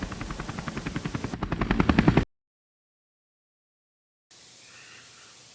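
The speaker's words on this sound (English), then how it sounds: "the rescue helicopter takes off." Rapid, rhythmic thumping of a Korean War-era rescue helicopter's rotor blades on the aircraft carrier USS Essex, close and growing louder as it speeds up, then cuts off to silence before a fainter hum returns.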